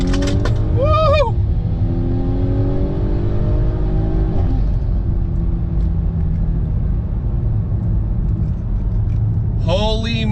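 A tuned Audi B9 SQ5 with a stage 2 tune, in dynamic mode, revs hard, its engine rising and falling in pitch and rumbling steadily near the microphone, with a second sharp rev at the end.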